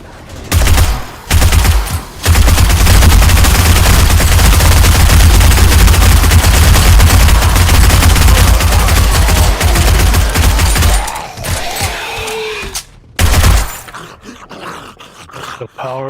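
Sustained rapid SMG gunfire in the survival game 7 Days to Die, a loud continuous burst lasting many seconds before tapering into scattered shots, growls and short pauses.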